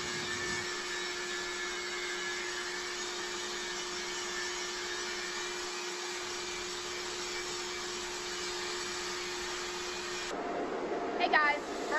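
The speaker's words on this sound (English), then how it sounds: "now we have somebody that is grinding on their plate using the special grinding room that we have" Steady, even grinding on a metal plate in an enclosed welding-shop grinding room, a continuous harsh whine with a constant tone that cuts off near the end, leaving some clatter.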